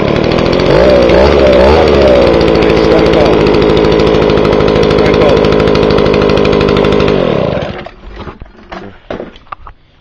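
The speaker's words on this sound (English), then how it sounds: "I'll try my leaf blower. Echo PP1000." An Echo PP1000 leaf blower's two-stroke engine fires on the first pull from cold and runs loud and buzzy up close for about seven seconds before cutting out, leaving a few faint clatters afterward.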